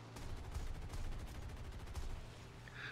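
Rapid bursts of aircraft cannon fire from a P-63 Kingcobra during a head-on attack on a Zero in the War Thunder combat game, a dense, steady stream of shots alone throughout.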